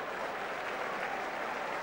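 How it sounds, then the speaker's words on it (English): A crowd in the stands applauds during a Derby County v Sunderland League Cup third-round football match, a steady, diffuse wash of clapping heard at a distance with no talk over it. "An applause from the crowd for Ramage's part in that attacking build-up"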